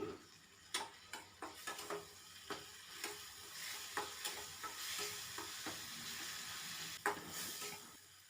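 Ground cumin and ginger paste sautés in a pan for a vegetarian bottle gourd kofta curry, producing a soft, steady sizzle with repeated spatula scrapes and clicks at an uneven rhythm.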